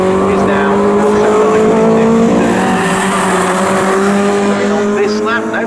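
Touring race cars, including a Honda Integra Type R and a Proton Persona, race at Snetterton in a Tin Tops series, loud engines straining continuously with tire squeal as they corner close by.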